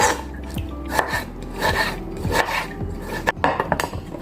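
A knife taps repeatedly against a cutting board in quick, uneven chops through tomatoes, close up, with some scraping in between.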